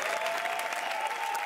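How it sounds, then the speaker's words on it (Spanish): Loud, dense applause fills a television studio audience in Ibiza as local hero Fernando Costa is welcomed, a continuous wash of clapping with a faint cheer. "un aplauso para Fernando Costa en la resistencia"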